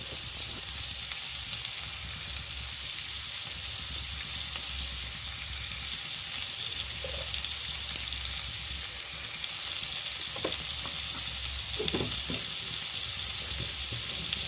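Vegetables for a Bengali-style veg chow mein stir-fry in a pan, a steady broad sizzle running throughout with a few faint clinks of stirring near the end, no voices.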